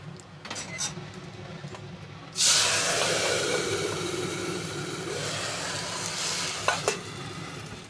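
Cumin, coriander powder and black pepper hit hot oil with a sudden loud sizzle partway through, then keep frying and hissing steadily while the tempering for khichdi is stirred.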